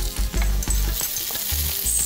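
Garlic and ginger paste fries in oil over medium heat, a close sizzle broken by repeated scraping strokes of a spoon against the pan, no voices.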